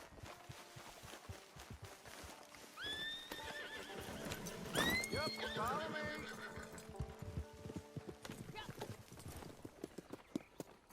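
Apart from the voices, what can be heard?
horses neighing and hoofbeats in video game Red Dead Online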